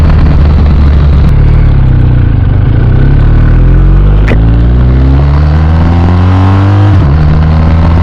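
Loud wind rush while riding a BMW R 1250 RT motorcycle, mixed with a droning engine whose pitch climbs and then drops at a gear change.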